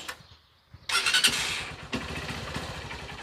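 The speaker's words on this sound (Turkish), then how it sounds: "Motoru çalıştırıyoruz." A Honda CB 125 E motorcycle engine cranks and fires up during carburetor air-screw adjustment, catching after a brief starter whir and settling into a steady, close, loud idle.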